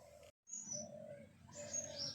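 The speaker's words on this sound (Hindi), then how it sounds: "देखिए, चिड़िया भी है ना मेरे साथ बातें करने आ गई है।" Bright, high bird chirps come in two short bursts, the second fuller and more rapid, over a low steady background hum.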